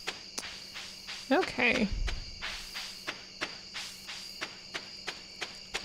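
Crickets chirp steadily in a calm night scene in the farming game Stardew Valley, a regular pulsing trill repeating about twice a second, with a brief spoken word and a short rustly game sound effect partway through.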